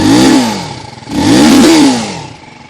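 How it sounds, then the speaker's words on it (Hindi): A 2025 TVS Apache RTR 310 motorcycle revs its exhaust up twice, each rise swelling into a loud, close engine roar before dropping back toward idle, with no talk over it. "अब ये जो एग्जॉस्ट है ना, इसकी साउंड सुनो।"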